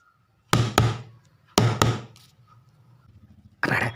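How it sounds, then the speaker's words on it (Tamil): Knuckles rap on a house door in a Tamil comedy scene: two sharp double knocks in quick succession, then a muffled third rap after a pause, loud and close. "கதவை தட்டுவோம்"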